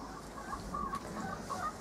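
Chickens at an allotment give a few soft, brief clucks, faint and fairly distant against a quiet outdoor background.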